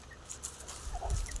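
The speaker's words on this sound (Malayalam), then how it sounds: "കോഴികളുണ്ട്, ഒരു 5-6" A small backyard flock of five or six hens beside a house in a home garden clucks softly, with scattered short calls and a louder burst of clucking near the end, close by with no talk.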